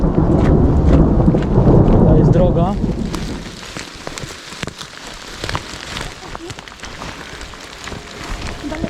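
A loud crack and rumble of thunder in the first three seconds, then steady rain patters and drips on a surface, with occasional sharper drops.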